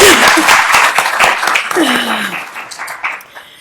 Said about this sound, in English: we'll have a brief moment of applause for her.